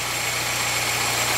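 An engine idles steadily after an ignition timing adjustment and Hall sensor replacement, a smooth, even low rumble with a fast regular pulse that runs unbroken throughout.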